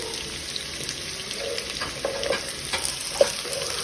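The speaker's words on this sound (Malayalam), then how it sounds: "ഇതിന് നന്നായിട്ടൊന്ന് വഴറ്റി കൊടുക്കും." Thinly sliced onions sauté in a pan for egg biryani, a soft continuous sizzle with a few stirring scrapes, fairly quiet and close.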